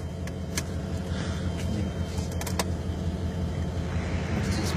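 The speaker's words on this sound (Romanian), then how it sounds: "Florin, pornește un pic mașina, te rog" A car idling with a steady, loud low engine rumble throughout, with faint clicks and rattles from inside the cabin and no voices; no distinct start-up moment.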